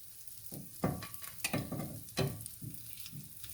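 Bottle gourd wadi shallow-fries in oil with a quiet, uneven crackle, broken by a few soft bursts of sputtering and the gentle shuffle of pieces being turned.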